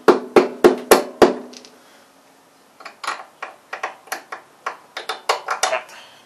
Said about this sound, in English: Just a rubber hammer.